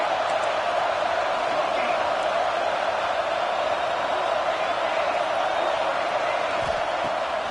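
A dense, steady stadium crowd roar from a College Football 26 video game, loud and unbroken throughout with no distinct peaks, filling the background like a constant wash of noise.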